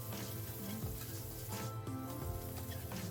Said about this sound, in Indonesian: Selanjutnya di minyak yang sama kita akan tumis bawang bombaynya sampai harum ya.